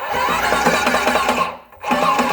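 An electric airless paint sprayer pump hums loudly and steadily while building pressure in the line, dipping briefly before surging back to full drone.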